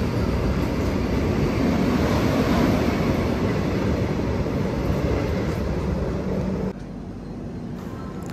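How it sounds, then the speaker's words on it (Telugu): The Yeshwanthpur–Kacheguda Express passes at Yelahanka, a loud continuous rumble of wheels and carriages with a steady high whine that drops off abruptly near the end. "యశ్వంత్పూర్ కాచిగూడ ఎక్స్ప్రెస్ మన యలహంకలోనే ఓవర్టేక్ చేస్తుంది"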